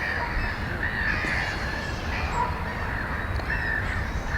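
Harsh crow-like caws sound repeatedly over steady outdoor background noise, fairly close and moderately loud.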